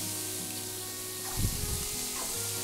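Onions sautéing in olive oil in a pan for Portuguese salt cod, giving a steady close sizzle with a brief burst of stirring noise partway through.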